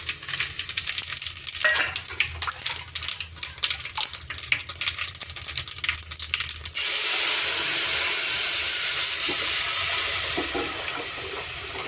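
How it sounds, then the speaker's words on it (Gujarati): Mustard seeds, cumin, curry leaves and spices are tempered in hot oil for sambar. Brief stirring and light crackling give way to a loud, sustained hiss-like sizzle close by, with no talking. "તો તેલ આપણું એકદમ સરસ રીતના છે એ ગરમ થઈ ગયું છે. તો આપણે સાંભારનો વઘાર છે એ કરી લેશું."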